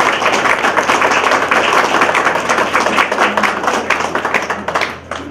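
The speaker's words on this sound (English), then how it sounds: "how about one last final applause for the huge investment from Clover Management" A crowd at the Huntington Square Senior Apartments ribbon cutting claps loudly and steadily, a dense wash of applause that thins slightly near the end.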